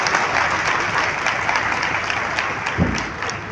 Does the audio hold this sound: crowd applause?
yes